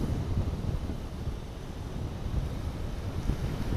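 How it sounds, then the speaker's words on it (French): A Delta 5 boat runs at full throttle, a steady dense roar mixed with rushing water and heavy wind buffeting the microphone, constant and loud without clear peaks. "On va tester l'accélérateur. Accélérer à fond."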